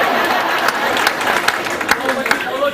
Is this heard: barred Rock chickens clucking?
no